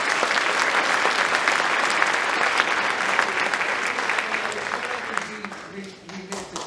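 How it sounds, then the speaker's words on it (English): Loud, sustained audience applause at a high school winter concert fills the room, holding steady before tapering off at the end as a voice starts up. "Let's give them a round of applause."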